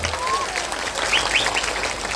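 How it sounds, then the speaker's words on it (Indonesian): A crowd at an open house event gives Pak Prabowo a round of applause, a dense, steady clatter of many hands heard alone at moderate loudness. "Tepuk tangan untuk Pak Prabowo."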